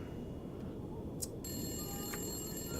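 A telephone rings inside the video game The Long Dark, a bright electronic trill starting partway through over a low steady background rumble, no talking.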